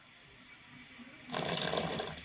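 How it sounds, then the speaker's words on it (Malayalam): Ginger juice is poured into a mixture, a short close liquid splash rising suddenly after a quiet moment and then running on steadily. "ഇനി നമ്മളിതിനകത്തോട്ട് ഒഴിക്കേണ്ട ഇഞ്ചിനീര്"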